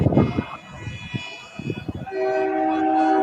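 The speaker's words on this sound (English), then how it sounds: "Most people are honking." Vehicle horns at an anti-Trudeau carbon tax protest: after rumbling traffic and brief voices, a loud, sustained blaring horn takes over for the last second or so, close by.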